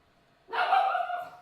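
A pet guard dog lets out a single sustained bark-like howl, close and fairly loud, rising suddenly out of near silence indoors and tapering off after about a second.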